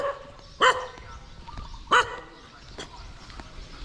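Dogs in a Thai village give two loud, close barks about a second apart, followed by fainter yips amid outdoor background noise.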